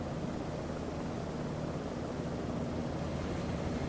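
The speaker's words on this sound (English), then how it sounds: "Looks like we've got a sustaining ignition here in engine 1." A helicopter in Microsoft Flight Simulator 2024, in winter at Bella Coola, spools up as engine 1 lights and the rotor blades begin turning: a steady, dense broadband turbine roar with a low throbbing undertone, continuous and fairly loud.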